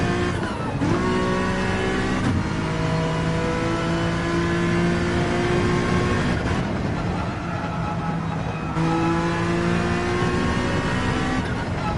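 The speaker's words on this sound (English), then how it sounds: "NSX sounds pretty good. Just gotta rev it out" A Honda NSX engine in Gran Turismo 7 revs up repeatedly in rising sweeps, loud and continuous, with a synthetic, game-like tone and no voices.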